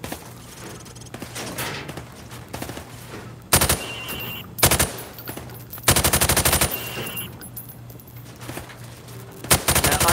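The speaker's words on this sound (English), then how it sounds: "Now, shoot at the targets while firing from the hip." Rifle fired from the hip at targets on a range in Call of Duty Modern Warfare, with a steady low hum broken by several sharp, loud bursts of automatic gunfire, some single cracks and some rapid strings.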